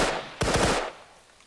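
A short burst of automatic gunfire in ARMA 3, several rapid loud shots close by trailing off into echo and quiet.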